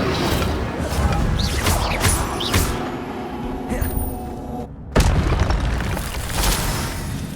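Incendio fire spell cast during combat in the game Hogwarts Legacy, producing loud booming, fiery blasts and bursts with a brief drop out midway before another strong burst.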